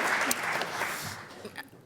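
A brief burst of audience applause at a political question-time event, fading quickly over about two seconds.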